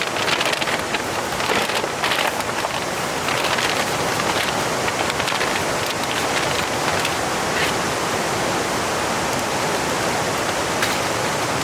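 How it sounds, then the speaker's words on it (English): Water washing close by at an outdoor lunch spot gives a steady, loud, broadband rush that fills the whole span without pause, with no talk over it. "I know it's a little bit loud right now. It's because we're next to the water."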